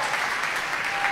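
A studio audience at a Turkish wheel-of-fortune game show claps in a brief, dense, steady burst of applause, loud and close, with no voices standing out.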